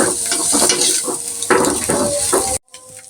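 Noodles frying in a hot pan as carrots go in and get stirred, with loud steady sizzling and scraping stir strokes close up, ending abruptly in near silence.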